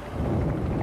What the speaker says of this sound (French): Je crois que c'est le tonnerre.